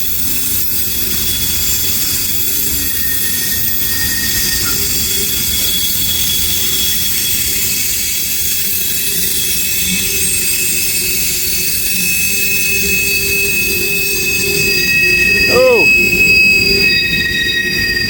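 A freight train rolls past on old B&O and Pennsylvania lines with a loud continuous rumble, while its wheels squeal in sustained shrill tones against the rails, rising in pitch briefly near the end.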